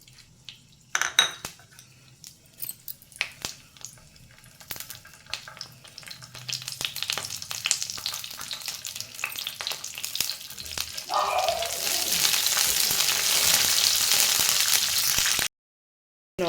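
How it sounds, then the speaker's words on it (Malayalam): Mustard seeds and curry leaves hit hot oil in a pan while making lime pickle, with utensil clinks and scraping first, then a loud, steady crackling sizzle that builds and holds before cutting off. "ഇനി കുറച്ച് എണ്ണ. അതിലോട്ട് കടുകും കറിവേപ്പിലയും."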